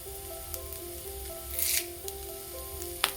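Chopped shallots and garlic sizzle in hot coconut oil for drumstick theeyal, giving a steady soft frying crackle with brief louder hisses and a few light clinks of utensils.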